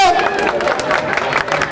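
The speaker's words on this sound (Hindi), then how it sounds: "तालियां बजा दो जेंट्स वालों।" An audience at a crowded sale event bursts into dense, loud clapping with some crowd noise mixed in, the applause continuing throughout the short moment.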